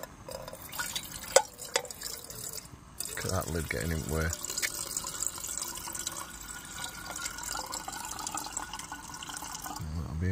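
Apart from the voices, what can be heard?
water poured from bottle into small OEX camping kettle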